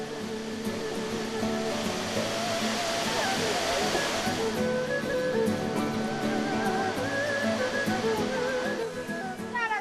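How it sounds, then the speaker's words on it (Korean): Hwangnyongtan waterfall pours between cliffs in a hidden gorge, a loud, steady roaring rush of falling water that fills the whole stretch, with a person speaking over it. "도화곡에 들어서면 가장 먼저 마주하는 폭포 황룡탄입니다."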